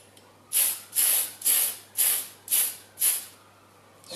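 Six short bursts of spray paint hiss onto a Tamiya Dual Ridge 4WD buggy bodyshell, evenly spaced about half a second apart. Each burst is close and crisp, with quiet pauses between them and no talk.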